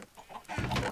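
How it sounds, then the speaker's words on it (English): Chickens cluck in the Minecraft video game, a quick run of short clucks on a farm, the last burst louder and fuller, with no talk over it. "Chickens."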